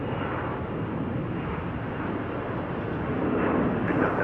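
A steady, broad jet-engine roar from an airliner taking off on runway 34 right at Salt Lake City airport, sustained and fairly loud, swelling slightly toward the end.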